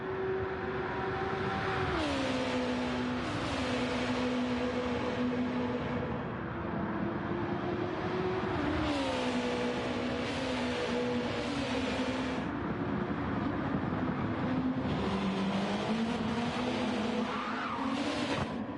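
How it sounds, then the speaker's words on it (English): Race cars in Gran Turismo 7 whine and rev steadily, with rising and falling engine tones and squealing tyres as they push through corners, continuous and fairly loud. "Oh, you could hear the squealing there"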